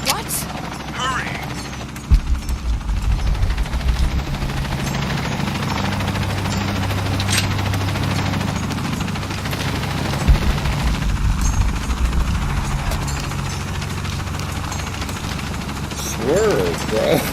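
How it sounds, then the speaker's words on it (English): Helicopter rotor and engine drone from the video game Shadow of the Tomb Raider, a steady loud whirring that holds throughout, with occasional sharp bangs like gunfire over it. "Laura, I'm in a chopper. I've got a pilot."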